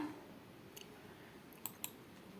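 A few sharp, quiet clicks on a Monster Abra A5 V16.7 laptop, one early and a pair close together near the end, over a faint hum of room noise.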